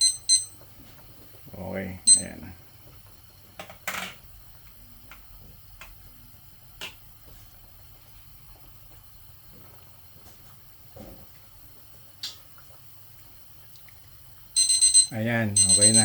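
Kitchen timer sounding while pork-offal rice porridge cooks, a few short electronic beeps scattered through quiet kitchen clatter, then a louder burst of ringing near the end, with brief talk over it.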